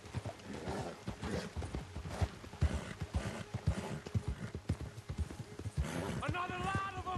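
Horse hooves clip-clop steadily at a riding pace in the Red Dead Redemption 2 video game, close and rhythmic over ambient game sound, with tonal music rising near the end.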